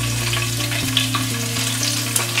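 Crushed garlic and chilli pieces fry in hot coconut oil in a pan for a South Indian garlic chutney, producing a loud, close, crackling sizzle that runs steadily from start to finish with small pops and no speech.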